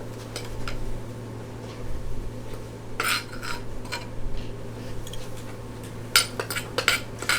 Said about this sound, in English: I'm going to scoop up all of the pepper and put it on a small plate.